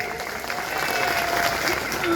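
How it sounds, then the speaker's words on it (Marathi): A wrestling arena crowd applauds, a steady wash of many hands clapping that swells slightly, with voices mixed in. "टाळ्या करा टाळ्या सगळ्यांनी"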